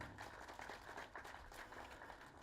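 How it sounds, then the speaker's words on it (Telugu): Crowd applause at a Telugu film event, a dense, continuous patter of many hands clapping at moderate distance, no speech over it. "వాళ్ళ కోసం గట్టిగా ఒక క్లాప్స్ కావాలి నాకు"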